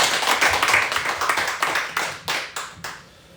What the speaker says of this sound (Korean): 감사의 박수 드리겠습니다